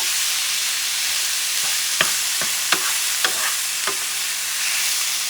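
Picadillo ground meat frying in a pan with onions and pepper, a loud dense sizzle under a handful of sharp spatula taps and scrapes as the meat is broken up, close with no talking.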